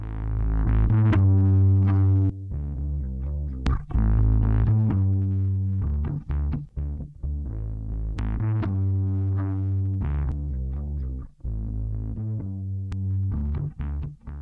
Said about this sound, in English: you can have like extreme distortion with that